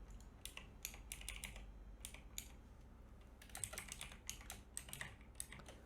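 Card payment data typed on a computer keyboard at a restaurant cashier, rapid bursts of key clicks with short pauses between groups, close and fairly quiet without speech.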